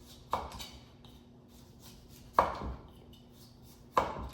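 A sharp kitchen knife cuts through butternut squash on a board with three distinct, widely spaced chops, each a crisp close thunk in an otherwise quiet kitchen.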